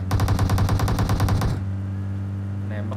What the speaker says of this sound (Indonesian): Nembak lagi.